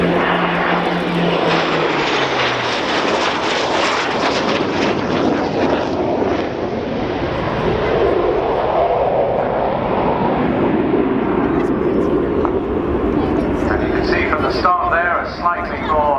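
A Hawker Hunter jet, known as Miss Demeanour, makes a display pass at the RNAS Yeovilton Air Day 2014, with a broad, steady engine roar swelling as it approaches and filling the whole clip.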